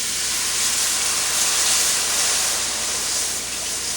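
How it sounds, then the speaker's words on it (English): A steady, dense hiss of milk sizzling in a hot pan for pan gravy, continuous and fairly loud with no voices. "And you'll just add it and it's going to make a sizzle."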